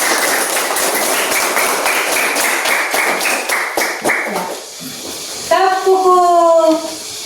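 Children in a classroom clap together in a fast rhythmic burst for a few seconds before it fades, then voices take over.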